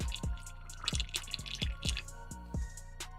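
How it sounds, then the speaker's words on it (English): Small amounts of isopropyl alcohol pour and trickle from an airbrush during cleaning, with a steady run of close, soft drips and splashes against a low background hum. "Pour a little bit out."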